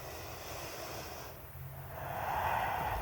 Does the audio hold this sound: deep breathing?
yes